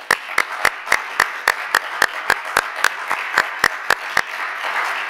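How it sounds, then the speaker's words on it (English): Steady, evenly spaced hand claps, about three per second, fairly close and distinct. The clapping comes at the close of a science lecture, with a faint room murmur underneath. "I would like to thank you again and give you an applause"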